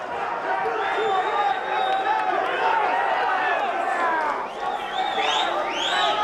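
A capacity wrestling crowd at the Hollywood Palace roars in a steady, dense wash of cheering and shouting, with scattered whoops rising toward the end.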